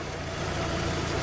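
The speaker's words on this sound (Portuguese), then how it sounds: "Messi Black vai dar partida nela agora." A freshly rebuilt car engine in a workshop runs at a steady idle, a continuous low rumble with a light mechanical hum, fairly close and heard on its own without voices.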